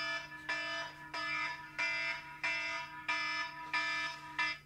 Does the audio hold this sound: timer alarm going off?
yes